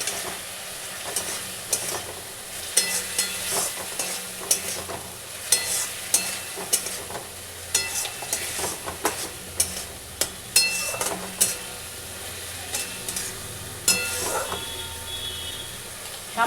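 Potatoes for an egg curry fry and get stirred in a pan, with a soft continuous sizzle broken by repeated scraping and clattering strokes of the spoon at an irregular rhythm.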